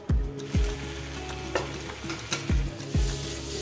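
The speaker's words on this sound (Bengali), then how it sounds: "পনিরগুলো দিয়ে 1 মিনিট কষিয়ে নেব।" Paneer cubes fry in a kadai with soy sauce and tomato sauce, a constant close sizzle broken by several sharp scraping thuds of a spatula stirring the pan, no voices.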